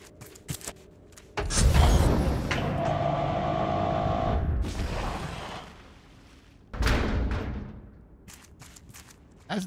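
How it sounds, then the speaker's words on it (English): Fireworks in the survival game Raft, heard as bursts of booming and crackling: a long rumbling stretch of blasts followed by a pause, then a fresh loud burst and scattered pops. "Just gonna watch the neighborhood fireworks"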